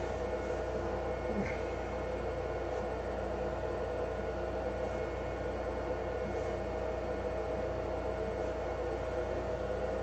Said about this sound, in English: the only thing I hear is that fan.